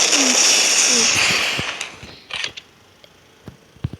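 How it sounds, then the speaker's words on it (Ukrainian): A loud whooshing roar of a rocket launch in a video game that fades over a couple of seconds, followed by scattered clicks and distant pops. "Опа, запустив ракету."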